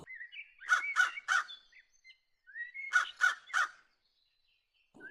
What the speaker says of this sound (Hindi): तभी कालू कौवा जोर जोर से चिल्लाते हुए लाडो के घोंसले के बाहर आ जाता है।